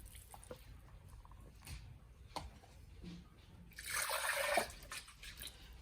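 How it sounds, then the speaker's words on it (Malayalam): Ground rice paste poured into paratha flour in a bowl gives a short, wet, splattering burst close by, after quiet kitchen sounds and a few faint clicks. "അരച്ചു വെച്ച ചോറ് നമുക്ക് ഇതിലേക്ക് ഒഴിച്ചു കൊടുക്കാം"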